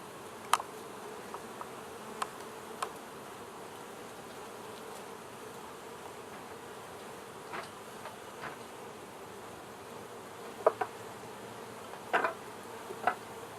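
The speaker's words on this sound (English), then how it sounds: "So on the Queen Anne's hive, do you add any more supers" Honeybees around a hive in a backyard apiary, a steady low buzzing drone with occasional louder passes of individual bees flying close by, no talking.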